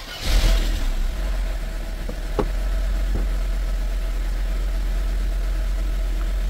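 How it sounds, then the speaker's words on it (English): A car engine idles steadily after a cold start, with a brief rise at the start then an even, low drone and a couple of faint clicks; the engine is suspected of a head gasket fault. "the engine started with the first crank and running okay"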